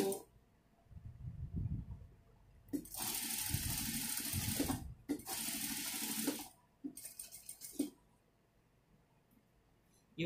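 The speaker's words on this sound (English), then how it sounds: "I'm gonna sew here 1/2 inch." A sewing machine stitches a fabric tissue box cover in two long, steady whirring bursts, with quieter handling and clicks before, between and after the runs.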